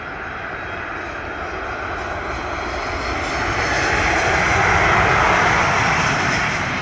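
A fixed-wing airliner takes off from runway 25 at Sangster airport in Montego Bay, Jamaica, its engines roaring loud and close in a continuous rising thunder that swells toward the end.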